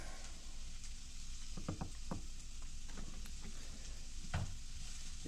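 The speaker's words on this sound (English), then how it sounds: "Give it a stir." Celery and onions sizzle quietly in a pan. A few soft scrapes and taps come from a utensil stirring them.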